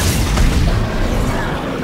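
Weapon fire in Dead Space 3, a dense, loud stream of booming shots rolling together over about two seconds with a low, heavy rumble and no clear gaps.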